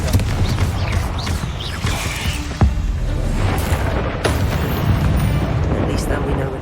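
Confringo blasting spell explosion cast inside a tomb in the video game Hogwarts Legacy: a loud rumbling blast with a sharp crack, followed by sustained roaring debris noise over steady game ambience.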